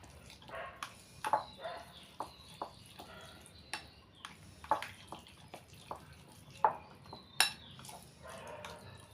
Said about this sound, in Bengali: এবার সর্ষের তেলটা মিশ্রণের সঙ্গে ভালো করে মিশিয়ে নিচ্ছি।